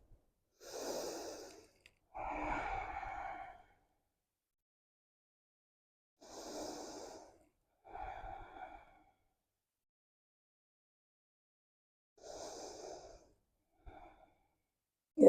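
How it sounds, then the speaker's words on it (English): Slow, deep breaths during a cool-down stretch: three paired inhale-exhale cycles, each an airy rush followed by a softer release, close and quiet, separated by long silences. "And breathe."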